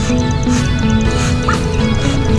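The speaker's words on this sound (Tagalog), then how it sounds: "Dito po mayroon din pato." Ducks on a backyard poultry farm, kept alongside chickens and turkeys, give off a dense, loud stretch of honking quacks close by, overlapping steadily with no talk.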